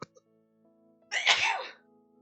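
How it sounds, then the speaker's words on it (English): A single loud sneeze bursts out close to the microphone after a brief quiet pause, with faint background tones underneath. "I have to sneeze, hold on."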